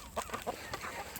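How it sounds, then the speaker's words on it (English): Chickens bred alongside quails in a farm pen, clucking in short bursts of several soft calls scattered over about a second, with a faint brighter call near the end, no talk. "The chickens,"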